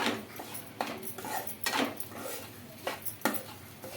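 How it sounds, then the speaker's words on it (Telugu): A spoon scrapes and clinks against a pan while semolina roasts for ragi upma, making irregular close taps and scrapes over a soft background hiss. "కలుపుతూనే ఉండాలి లేదంటే అడుగంటుంది"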